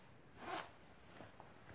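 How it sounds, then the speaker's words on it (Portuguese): The zipper on a pair of trousers is pulled open in one short, soft rasp, followed by faint handling noise in a quiet room with no talking. "Eu vou abrir o zíper"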